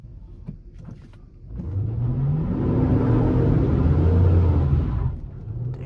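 A 5th-generation Chevrolet Camaro SS on a rain-wet road swells into a loud, close engine roar and rumble for several seconds as it spins, then eases off.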